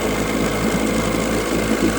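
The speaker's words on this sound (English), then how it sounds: "And it's running perfectly. This is perfect idling." A 1975 Johnson 9.9 hp outboard motor idles steadily up close, a loud, even buzzing hum with a fast regular pulse and no speech over it.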